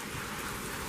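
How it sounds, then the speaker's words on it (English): Heavy rain pours down in sheets during a thunderstorm with gusty winds, a dense, continuous hiss of falling water filling the short moment with no voices. "Yep, there's rain sheets."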